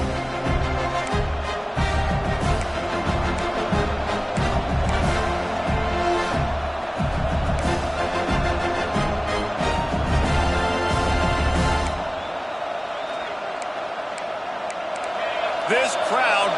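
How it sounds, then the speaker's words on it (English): A packed basketball arena crowd roars loudly in a continuous wall of cheering, with a commentator talking over it, before the noise drops off sharply near the end. "This crowd bringing an ear-splitting welcome to their visitors."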